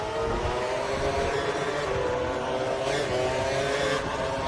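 A racing car in a Monaco 2012 video game race drones steadily with a high engine whine, loud and continuous, as another car passes close by.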